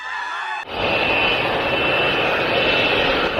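An airplane engine suddenly starts up in an audio drama, a loud, steady jet-like roar with a high whine sustained after an abrupt onset.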